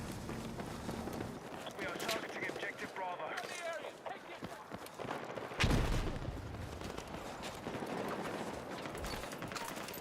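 P90 submachine gun fire in Battlefield 6, bursts of rapid shots mixed with other battlefield gunfire and a louder blast near the middle, running under steady talk throughout.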